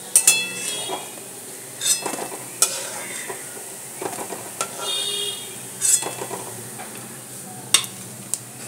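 Pieces of dhoka, a lentil cake, frying in hot oil for a second batch, with a soft steady sizzle broken by intermittent sharp clinks and scrapes of a utensil against the pan.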